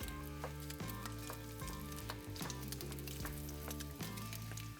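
Jasmine rice being stirred in a seafood paella pan over charcoal, a steady loud sizzle with scraping strokes recurring about every second, no voices.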